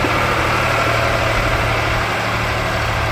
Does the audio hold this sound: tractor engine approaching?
yes